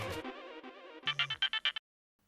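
A mobile phone ringtone plays, a short melodic electronic tune. It ends in a quick series of bright pulsing notes and then stops into silence, with no talk.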